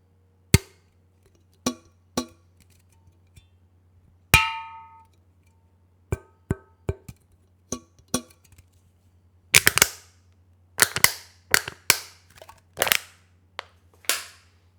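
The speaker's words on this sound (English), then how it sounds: "I'll press record and record some sounds from a pop can" Taps and knocks on an aluminium pop can recorded up close for a beatbox sample kit, a series of sharp metallic clicks and pings, spaced singly at first and then clustered into quicker bursts, with no talking.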